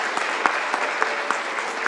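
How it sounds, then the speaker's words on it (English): Audience applause filling a synagogue hall at a Purim event, a steady dense wash of clapping with a few sharper individual claps standing out, sustained throughout. "we all deserve quite a significant round of applause"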